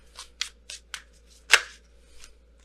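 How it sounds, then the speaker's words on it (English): Tarot cards being shuffled by hand during a reading: a series of short, crisp riffling bursts, then one louder slap of cards and a softer final shuffle, close and clear with no talking. "All cards kept coming flipping out"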